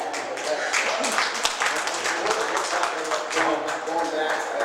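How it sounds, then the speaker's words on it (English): Audience applause in a hall of fame interview setting: a dense, steady patter of many hands clapping, moderately loud and sustained for several seconds, with talk partly mixed in. "I almost think we ought to give him a round of applause"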